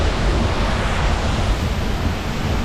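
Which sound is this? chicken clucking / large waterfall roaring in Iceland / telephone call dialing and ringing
large waterfall roaring in Iceland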